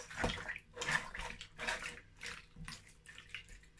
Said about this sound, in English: So I'm going to add a little bit of water. I'm going to mix that.